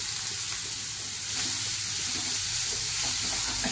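Chopped onion and cumin seeds sizzle in hot oil, a steady close crackling hiss that swells slightly partway through, with no speech.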